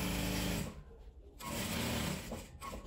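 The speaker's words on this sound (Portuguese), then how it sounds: "Mas eu começo a costurar aqui no tecido de baixo mesmo." A sewing machine stitches fabric for a patchwork scrap door mat, running steadily and loud, stopping briefly mid-way, then starting again.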